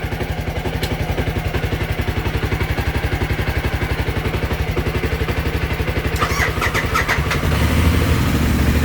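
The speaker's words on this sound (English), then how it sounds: "now we're gonna start my bike" A motorcycle engine, jump-started after its battery died, runs at a steady rapid idle with a throbbing exhaust pulse, loud and close, with clattering taps partway through and a slight rise in pitch near the end.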